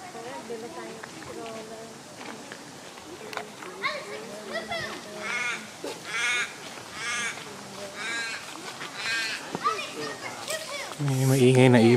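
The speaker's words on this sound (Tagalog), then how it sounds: "May maingay na ibon sa taas." Loud, harsh bird calls repeat overhead, cawing in bursts while people talk and children's voices carry nearby.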